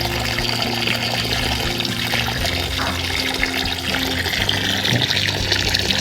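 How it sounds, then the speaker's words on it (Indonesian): Water being poured into a plant pot until it drains out of the base, a steady close trickling and splashing that carries on throughout. "Terakhir adalah kita siram dengan air sampai penuh."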